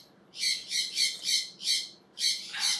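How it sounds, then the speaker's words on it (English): Pet birds squawk indoors in a run of loud, harsh, evenly spaced calls, about seven in a row with a short pause before the last two, close to the microphone. "those are my birds."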